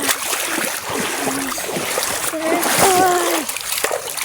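Water splashes in a creek as someone washes, with irregular scoops and splatters up close, while a voice and other voices talk over it.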